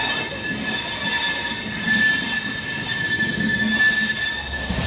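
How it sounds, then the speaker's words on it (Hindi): A passenger train runs fast on rails between Amritsar and Uttar Pradesh, heard from close by as a steady, loud rolling rumble with sustained high wheel squeal running throughout and no talking. "ट्रेन जो है वो चल रही है और बहुत ही यार ज़्यादा ना फास्ट चल रही है"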